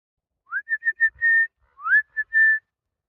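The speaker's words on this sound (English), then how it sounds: "my whistling worked" A person whistles in the woods to call an antlered wild male animal, giving two close, clear phrases of short rising chirps that each end in a longer held note, with silence all around.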